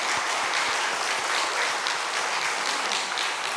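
A church congregation bursts into sustained, dense applause during a Sunday service, a full roomy clatter of many hands lasting the whole stretch.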